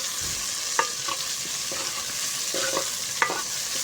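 Onion and tomato sizzle steadily in hot ghee, with a few sharp scrapes and clinks as a spoon stirs the pan; no voices.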